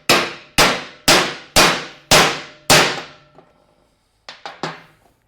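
A socket is struck with a hammer to drive a part onto an angle grinder during a repair. Six loud, ringing metallic clangs land at an even pace, then after a pause come three quicker, lighter taps, all close up.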